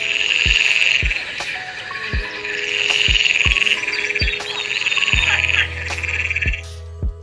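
Frogs croak in a loud, busy chorus with insect-like trilling, while sharp low knocks repeat at a steady beat roughly every half second throughout.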